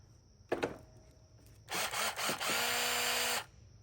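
An old Bauer cordless drill runs on a new battery. A sharp knock is followed by a loud, close whir that surges, briefly dips and then holds steady for about two seconds before cutting off.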